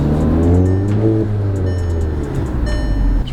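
A Porsche GT3 RS engine pulls hard on a test drive, loud and close with a rising, revving tone through the gears and no talking.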